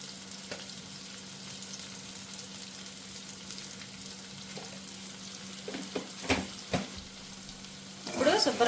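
Eggplant curry fries and sizzles softly in a pan as fenugreek spice powder is stirred in, with a steady frying hiss and a few scraping stirs that grow louder near the end.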